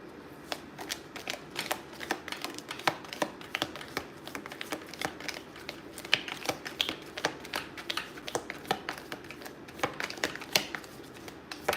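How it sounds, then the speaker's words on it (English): Rapid, irregular clicking of keys on a computer keyboard, close and crisp, continuing steadily without pause and with no voices. "Stop typing."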